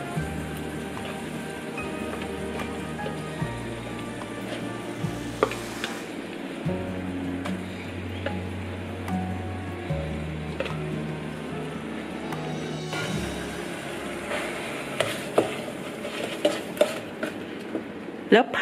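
Green curry paste being stir-fried in coconut cream in a pan, with continuous sizzling, scraping and utensil clatter against the pot, close up, alongside a steady low background hum.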